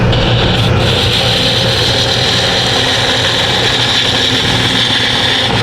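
Wood spindle turning on a lathe with a small gouge, a steady close scraping and rubbing hiss under the lathe's low hum, continuous and loud with no pauses.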